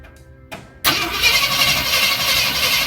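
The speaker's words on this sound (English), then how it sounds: "We're going to crank it and see if fuel's coming out." The engine of a 1965 Ford F250 cranks steadily and loudly after a couple of brief clicks, a continuous close starter churn without catching, heard alone.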